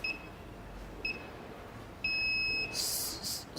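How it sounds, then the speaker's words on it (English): An X10 Wi-Fi smart alarm panel sounds short electronic beeps: two brief chirps, then a longer sustained tone as it is armed, followed by a burst of higher alarm-like tones, clear and close. "I'm going to arm the alarm panel through the app."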